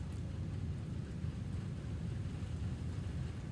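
Steady rain falls outside, a dense, continuous low rushing wash with no breaks, heard alone and fairly quiet throughout.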